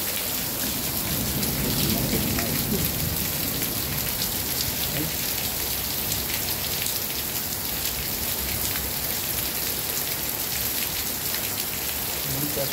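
Heavy rain pours down steadily in a dense, constant hiss onto a street running with floodwater, with no pause or letup throughout.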